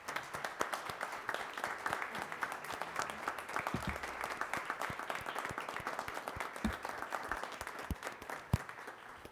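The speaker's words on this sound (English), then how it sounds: "I think you guys deserve a huge round of applause" Sustained applause from a room of people at a township trustees meeting honoring public safety telecommunicators, dense overlapping hand claps with a few sharper claps standing out, steady and moderately distant, with no talking over it.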